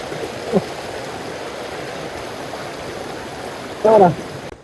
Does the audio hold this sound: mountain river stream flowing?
yes